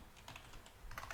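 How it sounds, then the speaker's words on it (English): Quick, light keystrokes on a computer keyboard during Python coding, a few clustered taps then a faster burst, quiet and close with no talk. "It's a lot of typing for this project."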